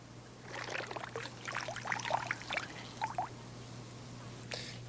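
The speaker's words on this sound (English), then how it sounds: "Now pour fingernail polish remover over the top." Fingernail polish remover poured over plant goo in a glass, a faint, close trickle of liquid lasting a few seconds over a steady low hum.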